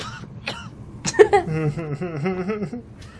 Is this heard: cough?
yes